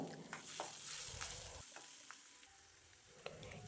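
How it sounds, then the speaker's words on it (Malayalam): A soft, steady sizzle of ginger sautéing in hot oil, with occasional light clicks of a utensil stirring the pan. "ചെറുതാക്കി അരിഞ്ഞ് വെച്ച ഇഞ്ചി ഇട്ട് ഒന്ന് വഴറ്റിയെടുക്കാം"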